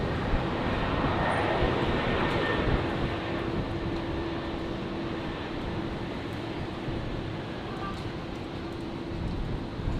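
A Qantas airliner moving at Brisbane Airport, heard as a steady, loud jet engine roar with a broad rushing hiss that holds for the whole stretch and eases slightly toward the end.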